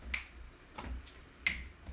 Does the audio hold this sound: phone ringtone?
no